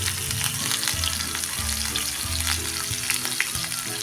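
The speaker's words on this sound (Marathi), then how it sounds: "मिरची थोडा वेळ परतून घ्या।" Thinly sliced green chillies fry in hot oil with asafoetida in a pan, giving a loud, continuous close-up sizzle and crackle, with occasional stirring scrapes and no voices.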